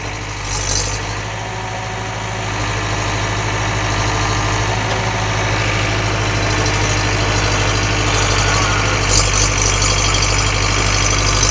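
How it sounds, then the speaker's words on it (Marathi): A tractor engine runs steadily nearby, a low, even rumble that holds at a constant level the whole time. "दुसरा ट्रॅक्टर बोलावला ते ट्रॅक्टर लगेच आला"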